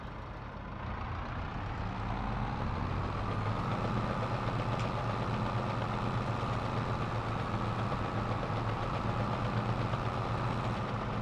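A tractor or front loader idles steadily in a video game, a continuous low diesel rumble that holds level and close with no talking.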